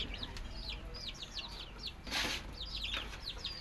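Young chicks peep in a run of high, rapid chirps close by while being fed Integra 1000 starter feed, with a brief burst of rustling or wing flutter partway through.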